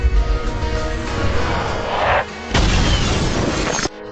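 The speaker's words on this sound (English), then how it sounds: "A huge explosion swept through the entire Louvre" A huge explosion sweeps through the Louvre in the film Edge of Tomorrow, a loud dense blast that roars on, cuts out briefly, then surges back even fuller before stopping abruptly.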